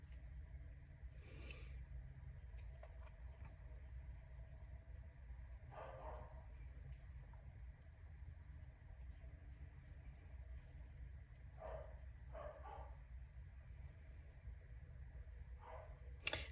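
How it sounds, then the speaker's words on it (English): Dogs barking inside a house, heard from the garage: muffled, distant barks in a few short scattered bursts over a steady low background hum. "Do you hear my dogs barking?"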